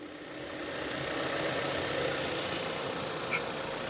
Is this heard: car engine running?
yes